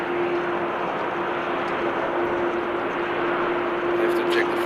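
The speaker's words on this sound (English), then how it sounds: "The 330 we're seeing here is going to Edmonton, and my guess is it's going to take off from 36 left." Airbus A330 at Amsterdam Schiphol heading to take off: a steady broad engine roar with a sustained mid-pitched tone, constant and fairly loud, with talk faintly present.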